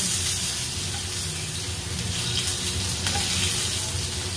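Onion and garlic fry in a home kitchen pan, giving a steady, close, loud hiss and crackle of sizzling that carries on unbroken with no voices.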